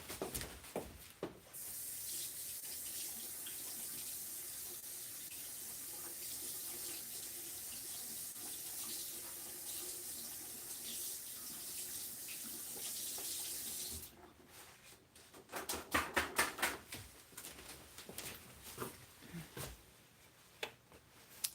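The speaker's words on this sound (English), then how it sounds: "I'm going to rinse these others off quick." A kitchen tap runs steadily for about fourteen seconds while items are rinsed under it, a broad close hiss of water, then it stops and gives way to a few brief clatters and splashes.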